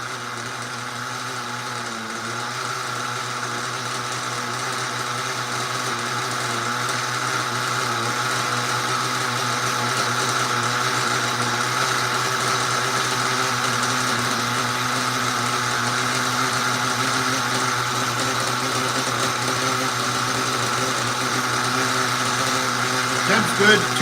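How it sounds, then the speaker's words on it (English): A small RC car engine during break-in runs at a steady idle, a continuous buzzing drone that slowly grows louder, with no talk over it. "I think this is the fourth RC this engine's been in"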